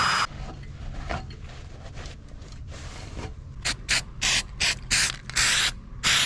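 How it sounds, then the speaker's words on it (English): Handling noises and a few light hisses, then a series of loud, short aerosol bursts of weld-through primer sprayed from a can onto Nissan Gloria chassis rails, close up, with brief gaps between them. "Should probably spray weld-through primer and clean up this surface"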